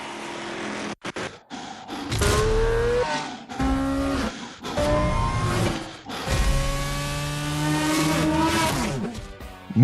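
Racing car engines in the Need for Speed Shift video game, rising and falling through gear changes with brief cuts between bursts, loud and close, with tire squeal mixed into hard cornering.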